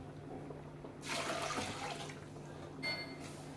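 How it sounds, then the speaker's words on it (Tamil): Water splashes and pours onto mutton bones in a pot for about a second, followed by a brief second trickle, against quiet background hum. "இந்த எலும்பில் தண்ணி ஊற்றிக்கலாம்"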